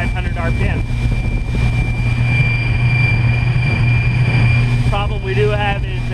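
An electric car's motor runs at 3,500 RPM while cruising at 36 km/h, a loud steady drone with a thin high whine, and someone talks over it at the start and near the end.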